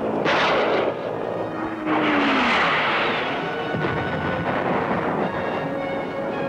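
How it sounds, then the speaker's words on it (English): Loud, continuous rumbling barrage of artillery fire and airstrikes hitting a hill during a Vietnam War assault, with heavy booms and blasts overlapping in a dense, sustained roar and no speech. "they hit the hill continuously with airstrikes."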